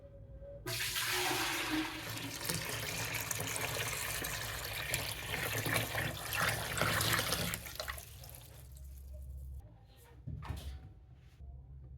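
Water runs and trickles steadily through a water purifier filter for several seconds, a soft continuous flow that fades out near the end, leaving faint drips.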